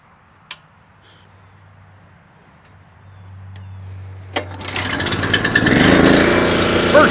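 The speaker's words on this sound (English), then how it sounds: "Fire up the splitter." Small gasoline engine on a log splitter pulled into life after a quiet lead-in with a few clicks, then a loud, rough running clatter building and holding close by.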